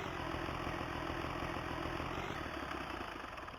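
A tractor in Farming Simulator 19 idles at close range, a steady low, throbbing engine drone that holds unchanged throughout with no talking.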